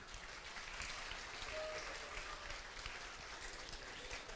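An audience at the opening ceremony of the 2019 European Junior Olympiad in Informatics applauds an orchestra, a steady dense wash of clapping from many hands that holds evenly throughout.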